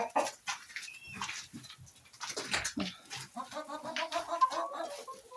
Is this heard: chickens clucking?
yes